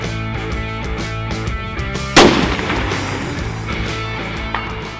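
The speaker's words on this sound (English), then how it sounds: "Okay, fire when ready. All right, here we go. First shot." A single rifle shot fires at a long-range target about 616 yards away, one loud sharp crack over steady background noise, with a faint later thump.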